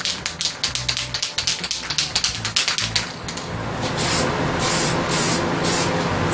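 Nissan automotive acrylic clear coat sprays from an aerosol can onto a model car, a close steady hiss in several bursts that follows a run of rhythmic tapping or rattling.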